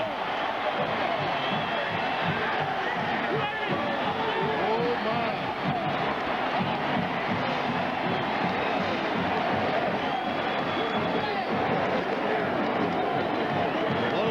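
Football stadium crowd at a West Virginia Mountaineers versus Maryland Terrapins game roars steadily after a big play, a dense sustained wash of cheering noise with a commentator talking over it.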